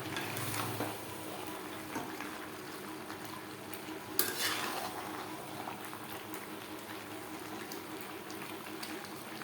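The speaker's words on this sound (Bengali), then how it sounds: "মাংসের সাথে টমেটো বেশ ভালো করে মিক্স করে দেব" Chicken pieces and sliced tomatoes are stirred in a hot pan for an aloo chicken curry, giving a low, steady sizzle with soft scraping and one sharper clink midway.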